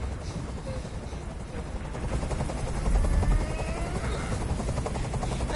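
A helicopter in the video game Detroit: Become Human thumps with a loud, continuous rotor chop and low rumble that swells slightly midway, with no speech over it.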